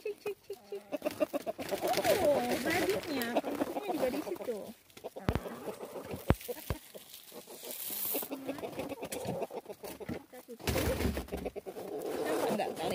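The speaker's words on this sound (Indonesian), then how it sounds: "Ini ayam jago satu-satunya." A flock of backyard chickens with a single rooster in a snowy setting, clucking and cooing busily in the foreground while someone talks over them, with a few sharp knocks in between.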